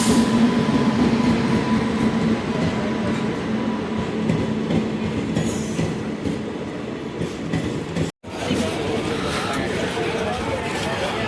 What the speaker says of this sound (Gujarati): આ આપણી ટ્રેન આવી ગયેલી છે.